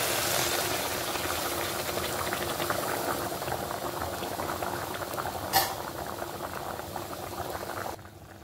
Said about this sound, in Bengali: দেখো ঝোলটা 2-3 মিনিট সুন্দর করে ফুটাই নিয়েছি।